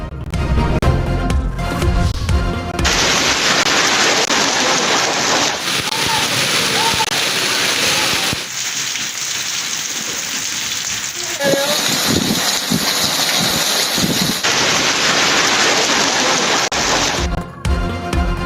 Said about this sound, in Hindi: खैबर पख्तूनख्वा और आजाद कश्मीर में बारिश और बर्फबारी ने रंग जमा दिया।